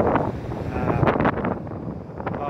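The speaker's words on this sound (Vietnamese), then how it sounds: "Gió ấy." Outdoor wind on a US college campus near a road buffets the microphone in loud, gusty bursts, a rough rumbling roar that swells and dips over a few seconds.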